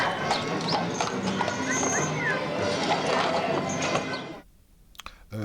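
Budweiser draft horses being harnessed, their hooves clip-clopping steadily and close on hard ground for about four seconds, with a brief whinny and people talking over it, before the sound drops off near the end.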